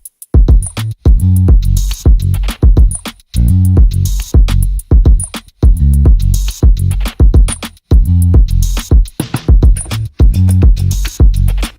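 Dense drum pattern with a deep sub bass entering underneath, a heavy low-end pulse thickening each beat, loud and driving throughout with regular snare cracks on top.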